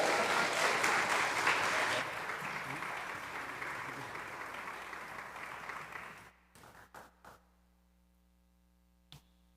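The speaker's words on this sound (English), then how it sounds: "Please give her a warm round of applause." Audience applause at a senior school arts showcase: a loud, dense wash of clapping that thins and fades, breaking into a few scattered claps before quiet sets in with a low hum.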